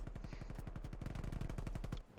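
Rapid automatic gunfire in a Call of Duty match, one continuous burst of closely spaced shots lasting about two seconds, fairly quiet and heard alone.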